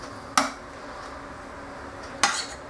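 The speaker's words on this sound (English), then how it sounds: "I'm going to take my spoon and spread that out good and get that worked in all over" A metal spoon spreading lasagna filling in a baking dish clinks twice against the dish, a couple of seconds apart, over a quiet kitchen background.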